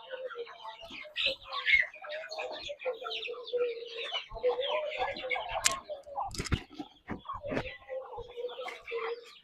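Country chickens on a native-breed poultry farm cluck and chatter continuously at moderate distance, with occasional sharper calls and a brief flurry of wing flaps, while someone talks over them.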